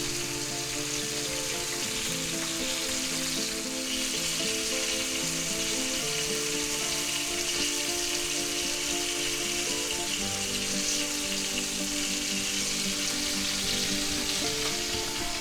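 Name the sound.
chicken and vegetables stir frying in a pan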